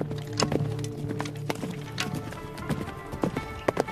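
A mounted archer's horse, hooves clip-clopping in an uneven galloping rhythm at moderate distance, with scattered thuds and a faint background tone.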